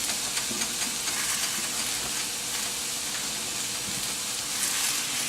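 Tortillas frying in a pan, a steady dense sizzle that holds evenly loud and close throughout with no talking.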